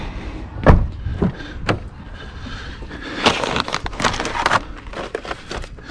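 A door thuds shut nearby with a sharp knock, followed by scattered bumps and rattles and a busier stretch of clattering movement, at a street-car gathering around a Dodge Challenger Hellcat Redeye.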